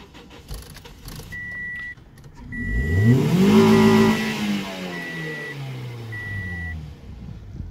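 A 2008 Toyota Yaris engine running with no battery cranks and catches, swells through a rising rev, then settles into a close, uneven idle that sputters and wavers but keeps running.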